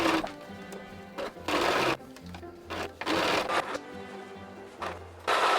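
Sewing machine basting a crisply pressed, trimmed fold of fabric, running in loud bursts of rapid stitching that stop and restart several times, close up with no talking.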